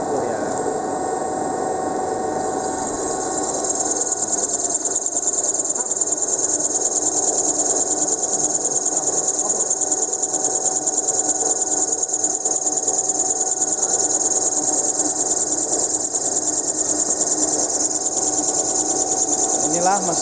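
A TSE 65 animal-feed extruder machine with a 35 kW electric drive runs, a loud steady mechanical whine and rattling hum that swells after a few seconds and holds on unbroken.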